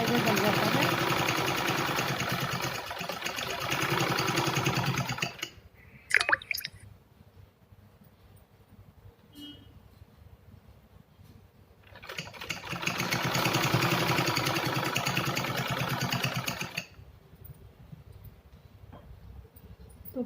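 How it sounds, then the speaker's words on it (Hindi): Sewing machine stitching a fabric organizer, two long runs of steady whirring with a quiet pause between them, close and fairly loud. "धीरे धीरे हम इसको मोड़ते जाएंगे और सिलाई हमारी लगती जाएगी इस तरह से"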